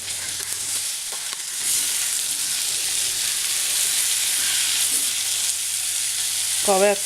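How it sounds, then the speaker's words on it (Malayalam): Steady sizzling of chopped ivy gourd frying with onions in a pan, a continuous hiss with occasional scraping from stirring, close and fairly loud. "കോവയ്ക്ക ചേർത്തിട്ടൊന്ന് ഇളക്കി കൊടുക്കുക."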